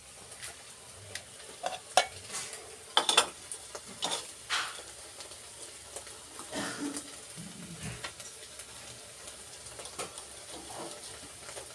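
Mustard seeds, fenugreek, cumin, garlic, chili and curry leaves crackle and sizzle in hot oil, with sharp pops and spatters near the start, then a softer steady frying hiss with light utensil clinks.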